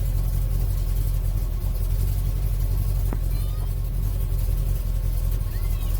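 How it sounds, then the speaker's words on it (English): Low, steady rumble of a 1971 Chevy C30 one-ton truck engine idling, a continuous deep throb heard close up inside the cab, with no talking. "And it's got that rumble that, you know, old vehicles have."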